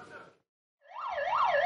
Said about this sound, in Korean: 전통시장에서 불이 난 상황을 가정해 소방차가 긴급 출동했습니다